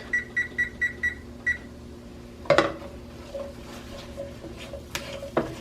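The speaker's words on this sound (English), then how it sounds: "we put our timer on for 10 minutes" A kitchen timer gives a run of six short, evenly spaced electronic beeps as it is set, followed by clattering pots and utensils and a few light knocks close by in a home kitchen.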